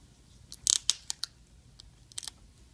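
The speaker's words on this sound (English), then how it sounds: "Just peel up the sticker." Someone peels a sticker up from inside an HP Compaq Pavilion laptop screen during a screen replacement, making a few faint, close, crisp crackling ticks in small bursts against a quiet background.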